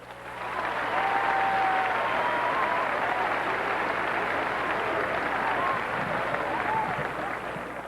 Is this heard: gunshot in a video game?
no